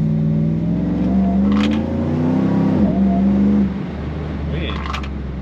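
A car engine revs while driving, a steady, full mechanical drone with rising and falling harmonics and a brief surge, heard close and continuous throughout.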